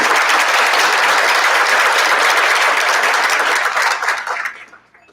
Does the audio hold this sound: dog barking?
no